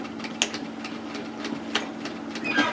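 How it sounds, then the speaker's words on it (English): A sewing machine stitches along the very edge of overlocking on a pleated hoodie, a soft, close mechanical hum with a few light clicks over a short stretch. "I'm just going to start stitching at the very edge of my overlocking"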